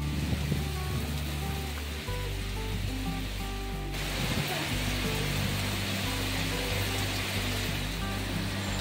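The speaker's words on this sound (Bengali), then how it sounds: "মুষলধারে বৃষ্টি পড়ছে, দেখে হয়তো আপনারা বুঝতে পারছেন, সঙ্গে ঝোড়ো হাওয়া।" Torrential rain pours down at evening during a stormy, kalbaishakhi-style downpour with gusting wind, a dense, steady roar of rushing water that fills the whole scene, alongside a low, continuous rumble and some tonal background sound.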